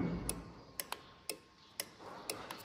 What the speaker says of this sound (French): Ah, vous entendez le tic-tac?